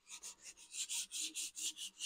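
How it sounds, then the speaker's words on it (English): Sandpaper rubbing over a Tucano model aircraft in a steady rhythm of about nine close, even back-and-forth strokes, a dry rasping scrape heard alone. "So this is the main sanding coat prior to putting all the actual detail."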